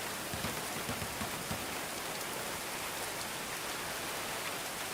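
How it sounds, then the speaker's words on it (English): Steady, dense rainfall in the colony-building game Going Medieval, a loud continuous hiss of drops on surfaces that fills the whole moment without pause and with no voices. "The rest of the volume is perfectly fine, but the rain is too loud."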